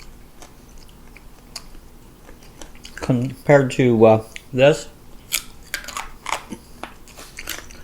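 Crisp biting and chewing of homemade pork cracklins cooked in an air fryer and a cast iron skillet: a quick cluster of loud crunches up close, then softer scattered crackles, with someone speaking briefly afterward.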